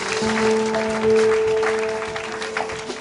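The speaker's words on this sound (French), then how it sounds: "Can you clap for the Lord" A crowd claps steadily throughout, a dense wash of applause with a sustained tone humming underneath.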